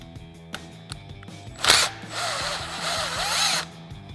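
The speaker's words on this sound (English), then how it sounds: "we're going to use our T30 Torx bit and our impact to get this out." An impact driver fitted with a T30 Torx bit removes a rotor retainer screw on a 2016-2024 Camaro, giving a loud buzzing burst of about two seconds after a few faint clicks, close and alone.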